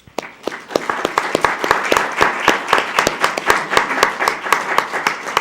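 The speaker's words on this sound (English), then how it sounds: "would you join me in a round of applause for the board?" An audience at a school board meeting applauds for the board with steady, dense clapping that sustains for several seconds at close range.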